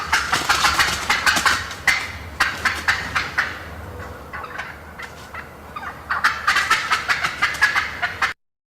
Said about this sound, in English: we had a couple different hens leave the roost and do a nice fly down cackle